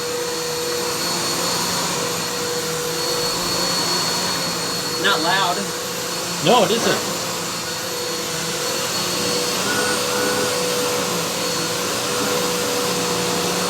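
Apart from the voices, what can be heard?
vacuum cleaner running on carpet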